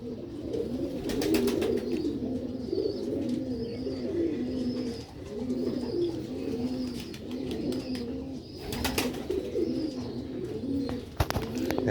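Sialkoti breed pigeons coo in a loft, soft rhythmic throaty coos repeating close by over a low background, with occasional fluttering and clicks.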